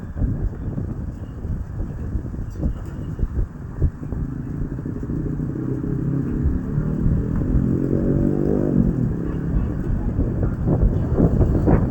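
Steady wind roars and buffets the microphone during unseasonal rain in Gujarat, with a continuous rushing wash of rain underneath, growing slightly stronger toward the end.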